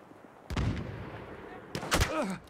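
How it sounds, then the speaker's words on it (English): Gunfire in Battlefield 1, heard as a couple of sharp, loud shots with booming tails in a multiplayer match. "Who's shooting me now?"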